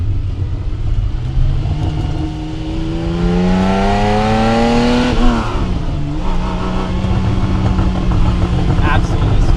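A triple-black Porsche 911SC coupe's flat-six engine revs up through the gears, rising in pitch, dipping sharply at an upshift and climbing again, loud and close inside the car with road rumble underneath.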